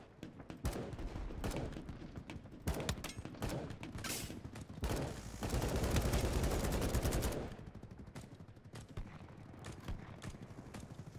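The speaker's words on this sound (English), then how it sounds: "I just sniped a guy from like 300 meters away with an LMG" LMG fire in the Battlebit video game, repeated bursts of gunshots with sharp, loud cracks and a dense stretch of sustained fire in the middle, some distant shots mixed in.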